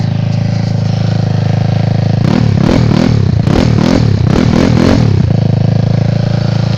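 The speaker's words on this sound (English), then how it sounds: "193cc 4mm stroker, 63mm 4-valve taida. First start right here," A GY6 scooter engine bored and stroked to 193cc with a 4mm stroker crank and a 63mm four-valve Taida head fires up for the first time, idling close and loud, then revving in several quick blips before settling back to a steady idle.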